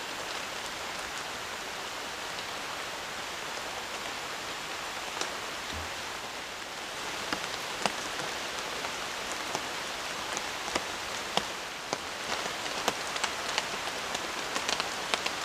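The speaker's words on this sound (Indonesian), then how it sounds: "Dari sore sampai sekarang malam hujannya masih turun ya." Heavy rain pours steadily on a forest campsite at night, a dense continuous hiss with scattered louder drops tapping nearby surfaces, growing slightly busier toward the end.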